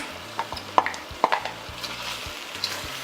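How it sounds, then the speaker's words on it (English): Sliced green onion, celery, leeks, red peppers and onion cooking together in a pan, with a steady soft sizzle broken by a few close spoon clinks and stirring scrapes, no voices. "Bring all of that together and let it simmer just for about a minute."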